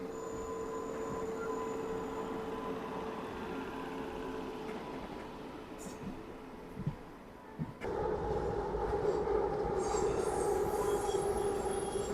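A train rumbles steadily through Sitafalmandi railway station in Hyderabad, with wheel squeal and a sharp louder surge of rolling noise partway through.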